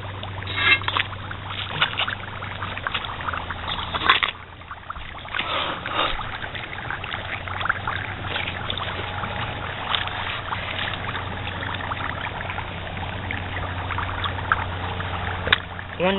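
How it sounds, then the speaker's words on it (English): Water is poured from high up onto dry ice, splashing and bubbling continuously with a steady low hum behind the churning, fizzing mix. "I'm pouring some water as high as I can"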